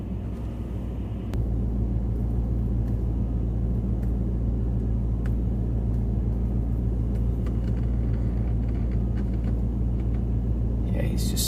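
Toyota Tacoma spinning its tires while stuck in snow during a nor'easter blizzard, a steady low engine rumble and whirring drone that swells after a second and holds, with faint people talking underneath.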